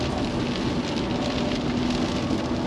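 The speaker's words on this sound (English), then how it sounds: "Rain has started." Steady rain falls hard and close, a dense, continuous hiss with no voices over it.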